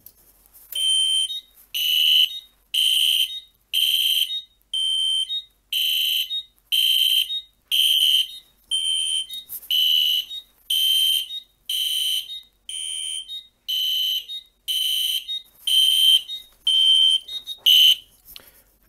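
A fire alarm set off by a Siemens pull station blares in a loud, regular pattern of bright tonal blasts, about eighteen pulses separated by brief silences, with nothing else audible.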